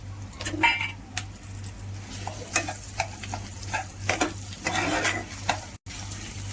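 Mashed banana mixture sautéed and stirred in a pan, a soft sizzle under repeated close scraping and clinking of a spoon against the pan, with a low steady hum beneath.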